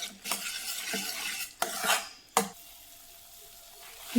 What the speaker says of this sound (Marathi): सतत ढवळत राहायचं आहे जोपर्यंत अशी घट्ट येत नाही ढवळताना अशी आपल्याला पळीने तोपर्यंत ढवळून घ्यायचं आहे